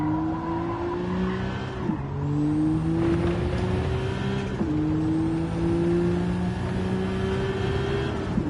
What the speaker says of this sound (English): I can hear cars.